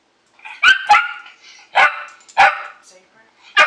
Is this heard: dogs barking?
yes